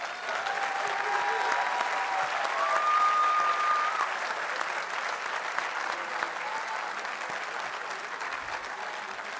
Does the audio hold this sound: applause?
yes